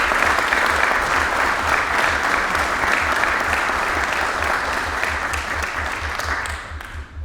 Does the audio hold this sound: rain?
no